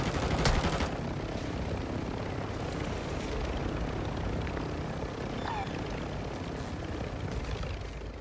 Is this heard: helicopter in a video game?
yes